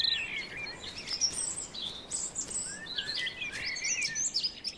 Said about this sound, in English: The robin is one of the loudest.